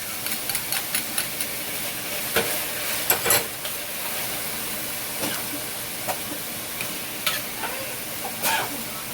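Garlic goes into a hot pan of vegetables, a steady hiss of sizzling with intermittent clicks and scrapes of stirring, close and moderately loud.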